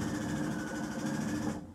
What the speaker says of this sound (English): So we're gonna just sew right along the center of this, folding it over 1/4 inch